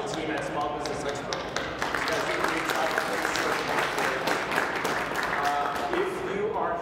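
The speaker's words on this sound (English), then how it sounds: "How about a round of applause for the team at Small Business Expo?" Audience applause for the event team at a Small Business Expo session, a dense steady clatter of many hands filling the room from start to finish, with some voices mixed in.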